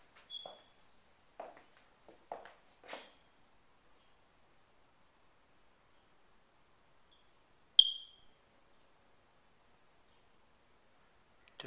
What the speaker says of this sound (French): Quelques détecteurs de fumée qui ont besoin de batterie.